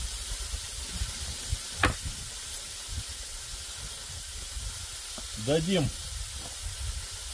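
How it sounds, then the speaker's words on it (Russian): Steam hisses steadily from an Afghan kazan pressure cooker used for cooking wild goose outdoors, a continuous close hiss with a few short bursts, while someone speaks briefly. "нашему афганскому казану спустить пар"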